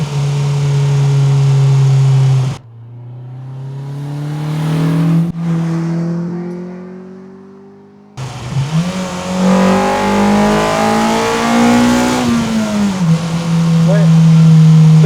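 Honda Civic VTEC engine revving hard, rising in pitch through the gears with a sharp drop between pulls, loud and close, with no talk over it.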